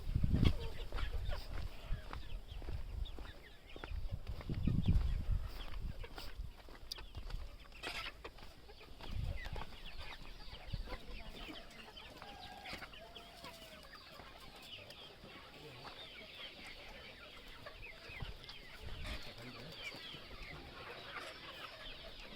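Native free-range chickens and chicks cluck softly at a moderate distance on a poultry farm, scattered low calls over a steady outdoor background hum with faint bird chatter.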